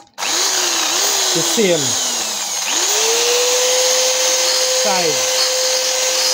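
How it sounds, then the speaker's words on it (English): A power drill reams a screw hole in a two-burner gas stove, whirring up in short bursts and then holding a steady high whine, with a few brief words spoken over it. "I'm gonna find out if the screw will go in. I have to ream some more"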